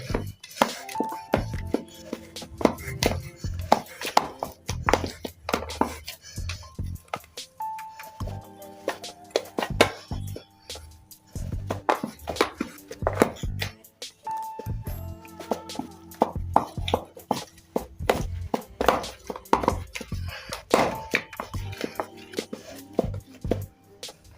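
Prawn fishing bait for rohu, catla and mrigal is mashed by hand like mashed potato, giving wet, squelching slaps and pops in an irregular rhythm, close and steady throughout.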